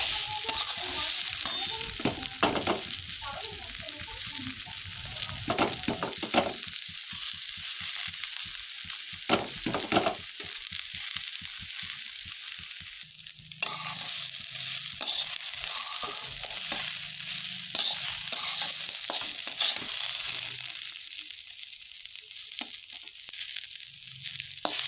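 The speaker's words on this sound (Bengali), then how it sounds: "এই ডালগুলো দিয়ে আবার একটু ভেজে দেবো হালকা করে।" Rice fried in a pan with moong and khesari lentils for khichuri bhog makes a constant close sizzle, broken by rhythmic scraping and rustling stirs of the grains against the metal.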